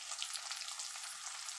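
Garlic and curry leaves sautéing in oil for okra puli kulambu, a steady, soft hiss of frying with faint crackles, close and unbroken.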